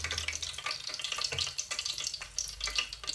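Freshly fried Moroccan chebakia crackles and sizzles as it sits in honey, a close, busy hiss of fine pops and bubbling that goes on steadily without talking.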